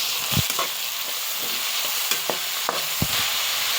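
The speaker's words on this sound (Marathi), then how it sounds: "मोहरी जरा तडूतर तोडी द्यायची आहे त्यानंतर कढीपत्ता त्यानंतर कांदा घालायचा आहे" Mustard seeds, curry leaves and onion frying in hot oil, a loud, steady sizzle with crackling pops and a few spoon-stirring knocks against the pan, close and continuous.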